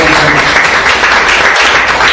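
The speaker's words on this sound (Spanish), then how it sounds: "Denle un buen aplauso al Señor." A church congregation applauds steadily during a Bible study service, a dense continuous wash of clapping at close range with no gaps.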